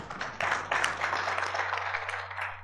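Faint, distant applause from an audience at a French-language Scrabble championship final, a soft patter of clapping that swells after a brief pause and continues evenly.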